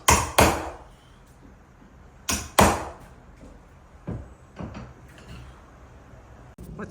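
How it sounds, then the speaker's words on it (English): Wooden shims are tapped in to adjust a door during installation, giving a series of sharp knocks, some paired, loud and close at first, then softer taps spaced irregularly. "Just shims adjusting the door."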